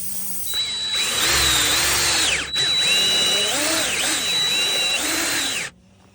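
A power drill drives a threaded repair fastener into a flat car tire on the vehicle, whining steadily and rising and falling with load for several seconds before cutting off abruptly.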